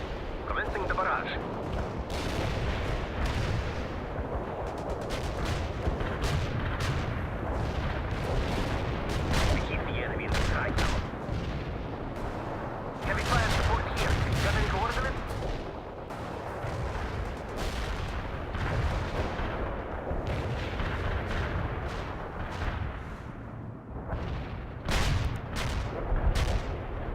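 A heavy artillery barrage in the video game World in Conflict, with dense, rolling booms and sharp cracks of shells and gunfire overlapping continuously, loud and near, while game voices talk over the bombardment.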